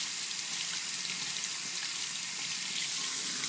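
Running tap water pours steadily into a sink as soap is rinsed out of make-up brushes, a continuous close hiss and splash with no one speaking.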